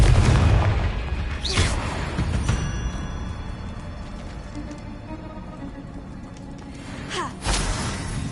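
Confringo blasting spell in the video game Hogwarts Legacy: sharp explosive booms burst out at intervals, a few loud thuds and pops with decaying rumble between them, alone without talk.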